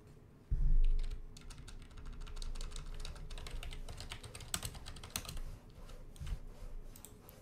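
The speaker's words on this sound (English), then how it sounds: "Need to hear some ASMR keyboard clicking." Rapid clicking of a computer keyboard during typing, a dense run of close, crisp key taps with a few louder strokes, heard alone for several seconds against a low background hum.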